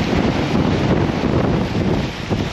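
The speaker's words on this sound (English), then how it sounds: "Oh, that wind." Strong wind blows across a shingle fishing beach on the English south coast, a loud, continuous roaring rumble buffeting the microphone for a couple of seconds.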